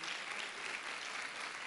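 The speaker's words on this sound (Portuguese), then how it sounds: "aplauda mesmo ao Senhor" A church congregation claps for the Lord during a sermon, a soft but dense, even patter of many hands that runs unbroken and heard from some distance.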